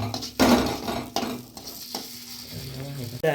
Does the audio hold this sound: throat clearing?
no